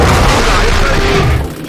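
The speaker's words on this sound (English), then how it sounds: "Just shoot the Stegosaurus." Loud, dense gunfire booms rattle out in a continuous barrage as players shoot a Stegosaurus in the dinosaur horde game Orion: Dino Horde, close and overwhelming for most of the moment before easing off.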